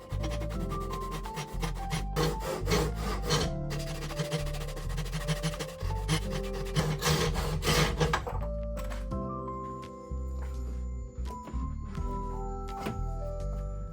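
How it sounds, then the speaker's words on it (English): A Japanese pull saw cuts notches in wood for a homemade wooden door's window sill, rasping in steady rapid strokes, close and continuous, with a few knocks toward the end. "I'm going to clamp that down and then pull out the Japanese pool saw to cut these out."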